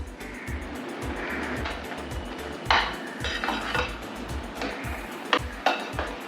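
Grated fresh coconut and melted sugar being stirred in a pan for coconut barfi, a spoon scraping and knocking rhythmically against the metal with low sizzling underneath.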